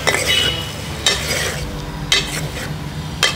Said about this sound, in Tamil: சேர்த்திட்டு 1 தடவை நல்லா கலந்து விட்டுருங்க.